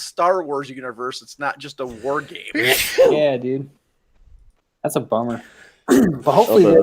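One short, abrupt sneeze bursts out in the middle of a casual multi-person podcast chat about gaming news, with talking close around it.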